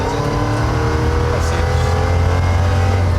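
A 1000-horsepower Dodge Charger engine drones steadily and loudly, its pitch holding with slight rises as it builds speed, close and continuous throughout.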